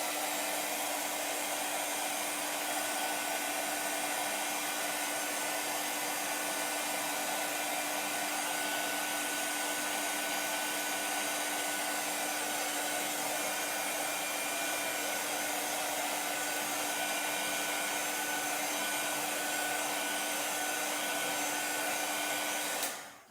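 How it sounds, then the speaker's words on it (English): A hair dryer blows steadily over chalk paint on a handmade two-bunny door hanger, a constant close whirring hiss that runs unchanged for about twenty seconds and cuts off abruptly at the end. "let me hit this with my dryer just to make sure that my chalk is dry"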